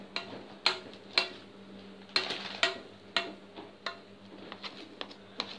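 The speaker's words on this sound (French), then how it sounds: "c'est facile écraser avec la petite cuillère comme ça" A small spoon mashes freshly cooked lentils into a purée, with repeated soft taps and scrapes against a bowl, spaced irregularly, close and fairly quiet over a low steady hum.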